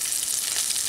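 Chopped garlic fries in hot oil with tempered spices, giving a brief, steady close-up sizzle and hiss with no voices.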